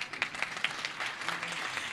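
Clapping from an audience of schoolchildren at a keynote address, scattered and moderately loud, with individual claps standing out in an uneven rhythm.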